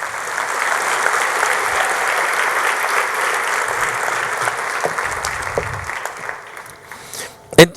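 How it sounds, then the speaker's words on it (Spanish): A church congregation applauds steadily at a Sunday service, a dense, even clapping that lasts throughout and thins out near the end, with a few louder knocks at the close. "Denle un aplauso fuerte al Señor."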